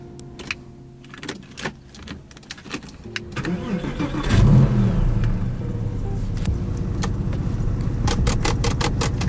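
A Porsche 911 996 C4 being started up, with clicks and faint key jingles before the starter cranks and the engine catches, then settling into a steady, close idle.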